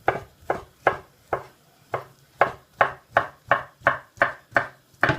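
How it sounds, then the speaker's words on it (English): A knife cuts rolled meat into strips for carbonara, about a dozen crisp, evenly spaced chops on a board, close and clear with no talk. "I'm going to get my knife and I'm just going to cut it into strips"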